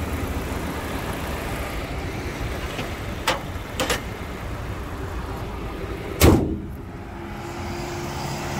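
A 2005 Kia Spectra with a 1.6-litre engine and five-speed manual gearbox runs steadily at idle, close by, with a few brief clicks and one sharper knock over the even drone.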